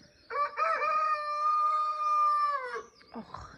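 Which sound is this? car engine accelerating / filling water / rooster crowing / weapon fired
rooster crowing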